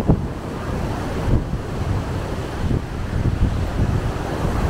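Strong sea waves crash and rumble on a Koh Samui beach, a loud continuous surging roar mixed with heavy wind buffeting the microphone, with no voices.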